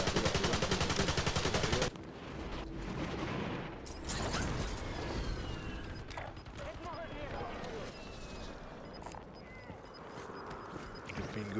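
Gunfire from the video game Call of Duty Warzone: a loud rapid automatic burst opens, followed by scattered shots, clanks and game effects under a player's ongoing talk.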